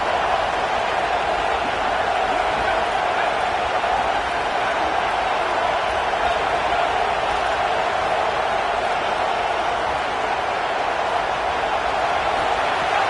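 A home crowd roaring at a football game, a steady dense wash of cheering and noise held at an even level throughout, with no single voice standing out.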